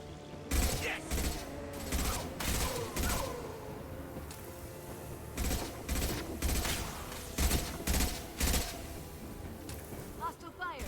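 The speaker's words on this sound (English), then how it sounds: "Hostile fire." Hostile gunfire in the video game Mass Effect 2, loud clustered bursts of shots arriving in rapid volleys with short pauses between them, mixed with mechanical clatter.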